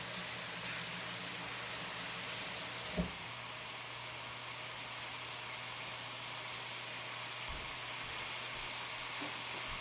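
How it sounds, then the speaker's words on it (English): Quiet, steady sizzling of chicken in a pan, a constant hissing wash with a soft click near the start and nothing else breaking through. "Getting a little bit of sizzle."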